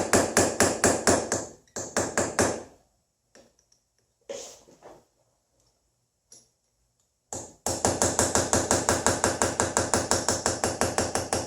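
A hammer drives a chisel over steel to chase and planish it, fast rhythmic metallic taps in bursts, pausing with a few isolated strikes in the middle, then resuming as a steady close run of blows.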